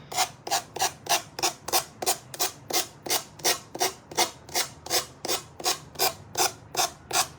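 A wooden piece's edge is sanded by hand in steady back-and-forth strokes, about twenty evenly spaced rasping rubs, close and moderately loud with no talking.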